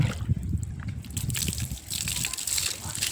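Water is poured over mud-caked sandals to rinse them outdoors on a rain-soaked farm, making a close, steady trickle and splashing while people talk nearby.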